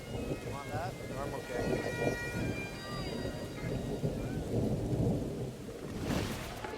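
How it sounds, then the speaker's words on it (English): Heavy rain pours down outdoors at a wedding, a steady rumbling wash with low thunder beneath and a brief louder gust near the end. Voices sound faintly over it. "moments later the skies open and down comes the dreaded rain"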